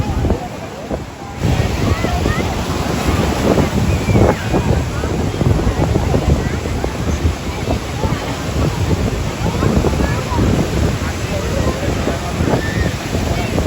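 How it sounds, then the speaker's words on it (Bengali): Big, rough sea waves crash at RK Beach in Vizag, a continuous loud roar of surf with heavy wind buffeting throughout. "এই দেখো এক একটা স্রোত, কতটা বড় ঢেউ আসছে আর কত উত্তাল সমুদ্র সৈকত"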